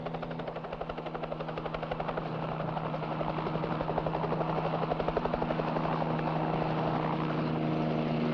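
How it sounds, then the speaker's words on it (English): A helicopter's rotor chops steadily and grows gradually louder as it approaches, a continuous pulsing thump over a broad engine roar with no other sounds. "helicopter's coming."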